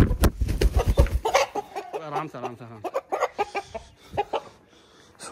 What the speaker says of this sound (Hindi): इतना वजनी मुर्गा है